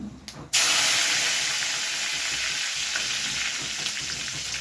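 Mustard seeds dropped into hot oil for Tamil fish curry (meen kuzhambu) burst into a loud, steady sizzle and hiss that continues unbroken, close and alone with no talk.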